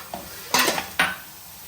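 Fried cashews and cardamom powder go into a pan of carrot halwa, heard as two or three quick clattering drops and scrapes against the pan over a low background hiss, close and brief.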